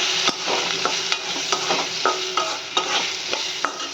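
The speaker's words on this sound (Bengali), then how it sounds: "ভালো করে নাড়াচাড়া করে" Potato and eggplant pieces, seasoned with turmeric and salt, fry in hot oil under a steady sizzle, with regular spatula scrapes and stirs against the pan close by and no voices.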